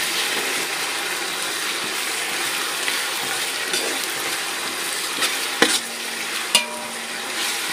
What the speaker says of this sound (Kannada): ಇವಾಗ ಇದರ ಹಸಿ ವಾಸನೆ ಹೋಗೋ ತನಕ ಫ್ರೈ ಮಾಡಬೇಕು.